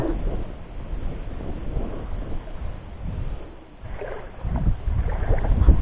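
Strong southwest monsoon wind buffets the microphone at night on the water while fishing, with low, rumbling gusts that swell and fade, growing heavier toward the end, with water movement faintly beneath.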